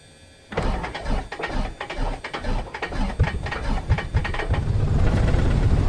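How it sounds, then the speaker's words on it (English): A simulated aircraft piston engine cranks and starts in a Microsoft Flight Simulator add-on, with loud irregular pulses of cylinders firing that build into a steady, dense engine roar. "Let me show you an engine start."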